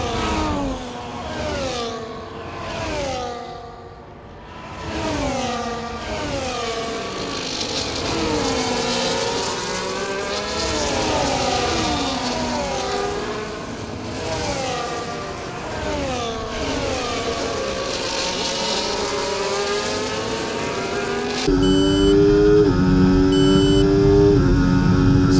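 Race car engines in the F1 24 video game at Imola, several cars screaming at high revs with rising and falling gear-change sweeps, loud and continuous, growing denser near the end as more cars crowd together.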